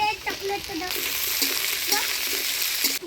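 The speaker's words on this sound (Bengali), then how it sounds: "এবার ভাজে নিব সব সবজিগুলা" Carrot and cauliflower pieces frying in a hot pan for fried rice, a loud, steady sizzle close by, with stirring scrapes breaking through now and then.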